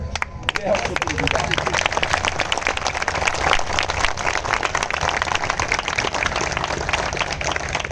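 Audience applause at a relay hunger-strike protest gathering: a dense, steady wash of clapping that runs loud throughout, with voices mixed in.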